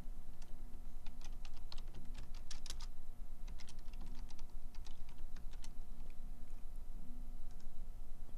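Rapid, uneven typing on a computer keyboard while a short script is entered, with many light clicks and brief pauses over several seconds, close and fairly quiet, no talking.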